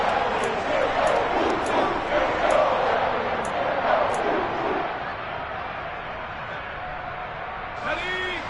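A stadium crowd roars and rumbles in the Madden football video game ahead of a big third down, a broad swell under an announcer's talk that fades toward the end.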